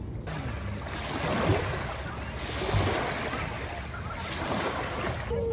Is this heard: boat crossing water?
yes